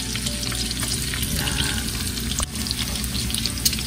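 Ginger frying in oil already used for frying fish, a dense, loud sizzle that crackles continuously up close, with a brief dip and clink near the middle.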